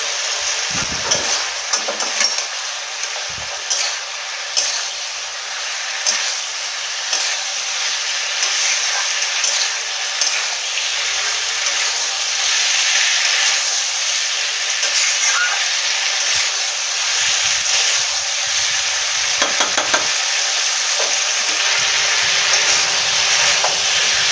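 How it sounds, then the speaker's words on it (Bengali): Cauliflower and potato fried with ground spices and a splash of water: a loud, continuous sizzle close up, with repeated scraping stirs and bursts of steam hiss throughout. "সবজিটা ভালো করে কষানো হয়ে গেছে মশলার সাথে।"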